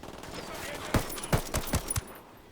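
Gunfire in Ghost Recon Wildlands: a short run of about six sharp shots in quick succession over a steady background hum of game ambience.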